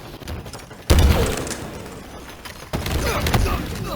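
A frag grenade explosion in Halo Infinite: two sudden loud blasts land about two seconds apart, each a deep boom with a sharp onset that rumbles and slowly decays over background game noise.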